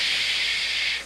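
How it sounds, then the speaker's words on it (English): A steam locomotive releases a loud, steady hiss of steam as it comes to a halt, one continuous blast lasting about a second and fading out at the end. "With a great hissing of steam, Henry came to a stop."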